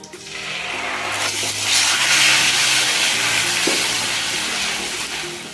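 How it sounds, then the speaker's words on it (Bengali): Spice masala with cardamom and cloves fries in oil while being stirred, giving a continuous close sizzle that swells in the middle, with occasional scraping strokes of the spoon and no talk. "আমি 5 মিনিট নাড়াচাড়া করব, 5 মিনিট মতো এটা ভাজতে লাগবে।"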